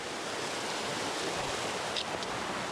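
Noisy mountain stream, Steep Creek, rushing over rocks, a steady broadband roar of water heard close and unbroken, with no voices.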